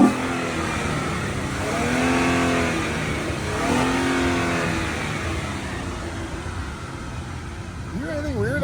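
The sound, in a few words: Noble car engine revving, extra air sucked into throttle body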